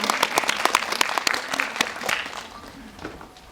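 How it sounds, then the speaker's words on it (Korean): Lively applause from a cinema audience at a film Q&A, many hands clapping together in a dense burst that gradually thins and softens toward the end. "여러분들 박수 부탁드립니다"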